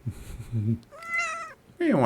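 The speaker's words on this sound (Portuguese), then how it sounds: "Tem uma gata me chamando, me cutucando para eu brincar com ela." A pet cat meows for attention indoors, giving a few short calls and then a longer, rising and falling meow, close to the microphone, with a brief bit of background sound between calls.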